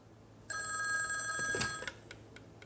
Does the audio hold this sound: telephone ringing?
yes